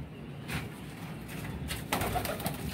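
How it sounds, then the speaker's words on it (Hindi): Fancy flying pigeons coo softly in a quiet loft, a few low, faint calls against steady background hiss with no talk. "फिट एंड फाइन कबूतर है"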